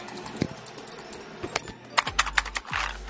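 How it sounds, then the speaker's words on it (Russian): Keys pressed on a computer keyboard attached to a completely frozen PC, a handful of separate clicky taps closing in a quicker irregular burst, near and fairly clear with no talking. "На клавиатуре, если мы понажимаем на блок, к примеру, как видите, ничего, никакой реакции."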